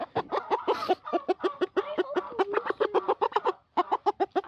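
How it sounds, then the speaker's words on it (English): A busy chorus of clucking and gobbling chickens, rapid overlapping calls close by, continuing throughout. "Look behind you. Those chickens."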